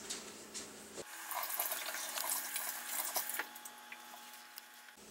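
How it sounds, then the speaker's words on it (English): Tap water runs steadily into a sink while hands are washed in a home kitchen, a continuous close splashing hiss with light patter and small shifts as the hands move through the stream. "Be sure to wash your hands."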